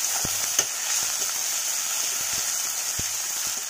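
A crushed ginger, garlic and green chili paste frying with onions for an egg curry, giving a steady close hiss of hot oil broken by a few sharp crackles and stirring taps.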